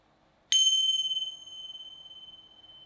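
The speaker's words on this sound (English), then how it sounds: "So I'm going to ring my chimes 3 times." A single meditation chime rings once, struck cleanly and close, its bright tone sustaining and slowly fading with a gentle wavering shimmer; no voices are present.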